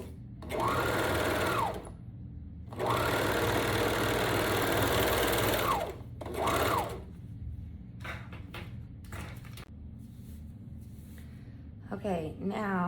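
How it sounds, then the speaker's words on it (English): A sewing machine stitches the shoulder seams of a dress, sewn with right sides together, in two long steady whirring runs and a brief third burst, close and loud, followed by someone talking. "So with right sides together, stitch the shoulder seams, and don't forget to take 3/8 inch seam allowance."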